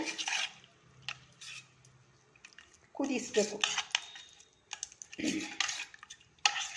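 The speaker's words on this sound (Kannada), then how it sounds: "ಇದನ್ನೆಲ್ಲ ಗಂಟಿಲ್ಲದ ರೀತಿ ಚೆನ್ನಾಗಿ ಕೆಳಗಡೆನೇ ತಿರ್ಕೊಬಿಡ್ತೀನಿ" A spoon scrapes and clinks against a pot as ragi flour is stirred into water, in intermittent bursts of metallic scraping and knocking, with a brief spoken word between strokes.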